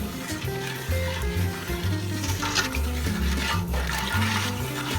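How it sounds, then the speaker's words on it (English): Lye is stirred into a basic soap mixture, a close scraping, sloshing stir with a fizzing hiss under a low hum. "Now we go ahead and add our lye, and you kind of step back and give that a good stir."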